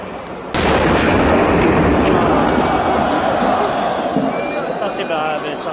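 A sudden loud boom breaks out, followed by a long, roaring rumble and crowd noise that slowly fades, heard from a distance.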